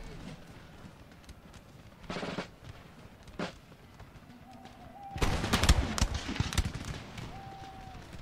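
Musket and cannon volleys from a battle in Empire Total War: scattered cracks and booms, then a dense, loud rolling volley of gunfire near the end, with faint game tones in the background.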